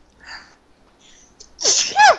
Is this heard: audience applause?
no